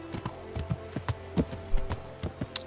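Horse hooves clip-clop at a walking pace in the medieval video game Kingdom Come: Deliverance, a steady run of moderate, fairly close footfalls with no talk.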